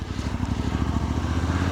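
Suzuki V-Strom 800 parallel-twin engine running under a rider on the road, a steady, dense low throb with rapid even pulses, loud and close throughout, with no talk.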